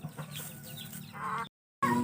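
Chickens cluck nearby in short, repeated calls, broken by a brief moment of silence before the clucking resumes.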